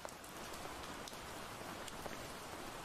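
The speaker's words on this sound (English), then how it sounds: "It's raining blood." Rain falling in a horror video game, a steady, soft, even hiss of drops with a few faint ticks, no voices over it.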